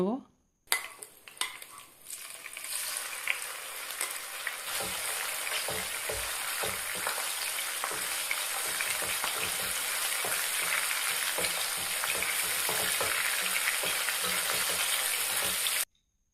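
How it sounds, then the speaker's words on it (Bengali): Loud, steady sizzling of prawns frying in a pan, with repeated clinks and scrapes of a utensil stirring against metal throughout. "চিংড়ি মাছগুলো আমি একইভাবে ভেজে"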